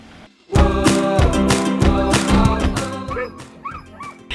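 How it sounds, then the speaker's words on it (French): A pack of sled dogs barks loudly and close by in a rapid, overlapping chorus after a brief quiet start, with yips and whimpers mixed in toward the end. "pendant notre balade, on a croisé des chiens de traîneau"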